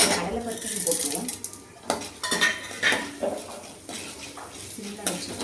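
Urad dal and chana dal roasting in a pan are stirred with a metal spoon, giving repeated close clinks and scrapes against the pan, with a faint voice underneath.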